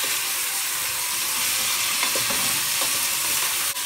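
Ingredients sautéing in a hot pan as the base for chicken noodle soup, a steady close sizzle and crackle with a few stirring scrapes, no voices.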